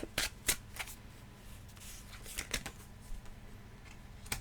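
A tarot deck being handled. A few sharp card snaps and flicks come first, then soft shuffling and sliding as cards are drawn. It is quiet and close, with no voices.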